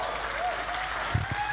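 Steady applause from a seated audience at a public discussion forum fills the moment, even and continuous, with a faint voice underneath.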